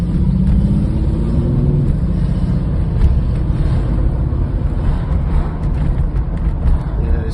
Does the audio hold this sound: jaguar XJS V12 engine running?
yes